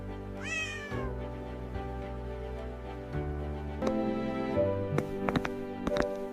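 A kitten meows repeatedly indoors, several clear, close cries with pitch glides spaced across the stretch, over a steady background hum.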